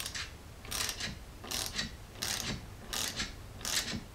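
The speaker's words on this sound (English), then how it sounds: "I'll tighten up this nut over here so it clamps onto the post" A half-inch wrench tightens the clamp nut on a battery terminal post of a Dodge Ram during a power cable upgrade, giving five evenly spaced bursts of quick ratcheting clicks, close and moderately loud.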